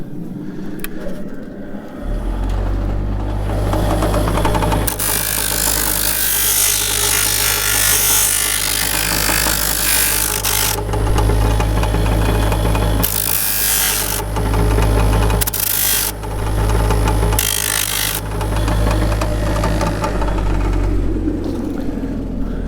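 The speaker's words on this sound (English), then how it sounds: "this real sharp edge here, I'm just going to grind that a little bit because otherwise it makes folds in the forging" An electric grinder works the sharp edge of a used steel horseshoe, a loud, continuous harsh grinding roar with a low motor hum beneath, rising and dropping as the metal is pressed on and eased off.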